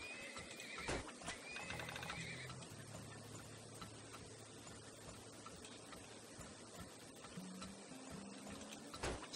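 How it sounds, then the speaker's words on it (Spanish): Horses neighing in the strategy video game Turmoil, a game whinny sounding clearly twice near the start and again near the end, over a steady bed of game music and ambient effects, with no talk. "Vamos a poner más caballos."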